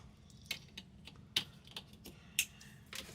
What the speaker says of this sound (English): Click it until you hear it click